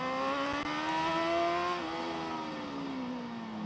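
Racing motorcycle at the Macau Motorcycle Grand Prix street circuit, its engine holding a steady high-revving whine through a tight, twisty section without a gear change, loud and continuous with the pitch dipping slightly and no voices.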